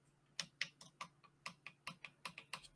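Pedals in an Eddie Stobart truck cab being pressed, giving a steady run of about a dozen sharp, light clicks at an even pace, close to the microphone and fairly quiet, with no talking.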